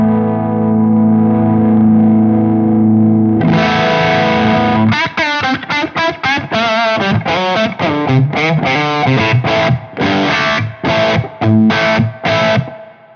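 Electric guitar with a humbucker pickup driven through a Synergy Z Wreck preamp at full gain, with spring reverb behind it: a sustained distorted chord rings out, then loud, choppy high-gain riffing with sharp stops and restarts.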